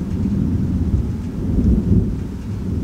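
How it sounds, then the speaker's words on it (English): Thunder during a rainstorm: a loud, deep, continuous rumble rolls throughout, swelling midway, over the steady hiss of rain, with no voices. "thundering and lightning and stuff"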